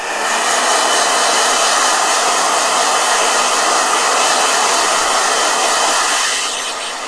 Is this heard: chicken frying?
no